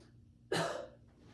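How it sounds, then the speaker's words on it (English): A single short cough, close and clear, in an otherwise quiet room. "And cough."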